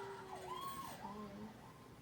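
Emergency vehicle siren wailing and sweeping up and down in pitch, played aloud in a classroom during a student presentation, moderately loud over low room noise.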